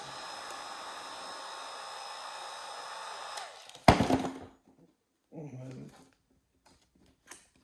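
A heat gun blows steadily for several seconds while warming an interior part of a 7.3 Powerstroke truck, then cuts off, followed by a few brief knocks and handling noises nearby.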